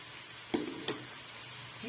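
Onions and green chillies frying in a pan give a soft steady sizzle, broken by two sharp stirring scrapes close by, with no talking.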